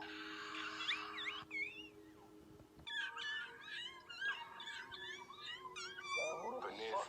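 A person imitates cat meows online, a series of high, wavering mew-like calls repeating through the clip, fairly close, with faint background voices and a steady low hum underneath.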